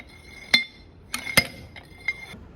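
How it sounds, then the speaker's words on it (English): A Standard Proctor compaction hammer drops onto a soil layer in a metal mold. Four or five sharp, ringing clinks come at uneven intervals, close and fairly quiet. "giving hammer blows uniformly for the layer"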